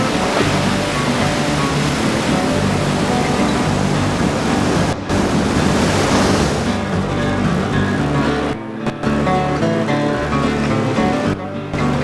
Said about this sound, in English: Waves at Makapu'u Bay and Sandy Beach challenge the best local and visiting surfers.